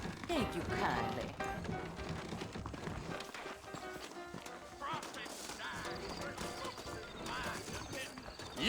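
Horses neighing and whinnying over clopping hooves in the video game Red Dead Redemption, busy and fairly close, with people talking and other commotion mixed in.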